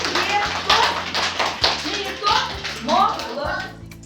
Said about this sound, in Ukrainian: Так, самі собі аплодуємо.